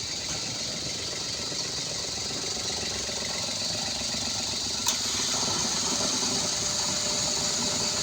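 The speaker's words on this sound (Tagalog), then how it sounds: "Wala nang palya, wala nang inig yung makina." A Toyota Wigo engine idles at an even, steady rumble with no misfire, with one brief click partway through.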